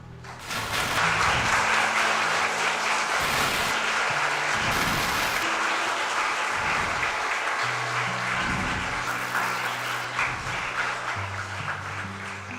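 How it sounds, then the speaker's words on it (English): A school audience at an investiture ceremony claps loudly and steadily, a dense sustained burst that swells early and carries on for several seconds with faint background sounds beneath. "So can we give him a good clap?"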